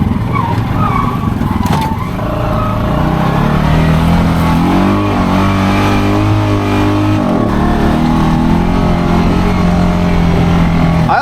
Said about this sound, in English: You can actually hear the shocks doing some work